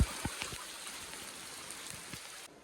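Rain falls steadily outside during a downpour, a faint, continuous hiss broken by a few soft drops and taps before cutting off abruptly near the end.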